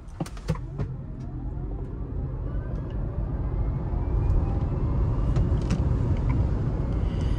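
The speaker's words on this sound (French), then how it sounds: "Alors on va faire une petite accélération, on va en refaire une." Hyundai Ioniq 5 electric car accelerating, a soft rising motor whine over steady road and cabin rumble heard from inside, with a few brief clicks near the start.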